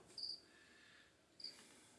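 A cricket chirps indoors in short, thin, high bursts, two clear trills separated by a pause, faint over quiet room hiss with no talking.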